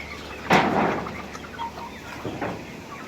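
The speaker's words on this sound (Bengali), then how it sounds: "এখানে চার পাঁচটা দেশি মুরগি আছে" A few desi chickens cluck nearby, with one sharp, louder squawk early on followed by softer scattered clucks against a steady low background hum.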